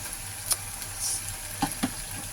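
Ilocano pakbet vegetables cooking in a pan under a lid, giving a quiet steady sizzle with a few soft knocks and clinks, no voices.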